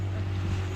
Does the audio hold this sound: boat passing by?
yes